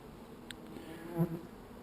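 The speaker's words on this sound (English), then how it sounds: "Most of the time bees would land and walk straight in." Faint, soft buzzing of bees close by at a hive entrance, a low steady hum with a brief louder drone as one passes near; otherwise quiet.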